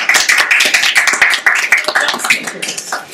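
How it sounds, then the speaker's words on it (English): A brief burst of scattered clapping comes from the audience at a 2015 round table discussion on social media and events, loud and close, with a few quick claps rather than sustained applause. "A little applause"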